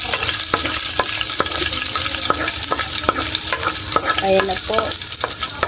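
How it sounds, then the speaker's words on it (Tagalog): Garlic sizzles steadily in hot oil for fried rice while a utensil stirs and scrapes the pan in repeated clicks and taps. A voice briefly speaks near the end. "Yung bawang. Haluin na po natin mga idol."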